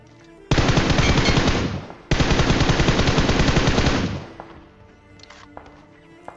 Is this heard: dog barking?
no